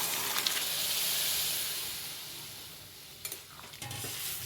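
Boiled peas and potatoes with spices are stirred in a pan for ghugni, giving a steady soft sizzle and hiss with a few spoon scrapes near the end, close and alone.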